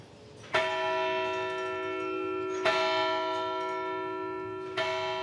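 A church bell in a French town strikes three times at slow, even intervals, each deep resonant toll ringing out and lingering before the next.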